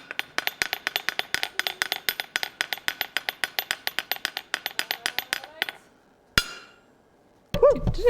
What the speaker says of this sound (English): let me get the drum roll. Hammer going.